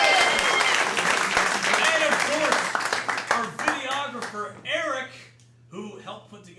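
A live audience applauds a co-host at a comedy show, with dense clapping that swells and then fades as a voice starts talking over the last of it.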